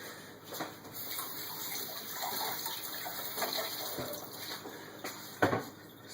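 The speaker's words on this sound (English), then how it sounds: "Let me wash my hands." Hands are washed under a running kitchen tap, a steady close rush of water with small splashes and a brief louder splash near the end.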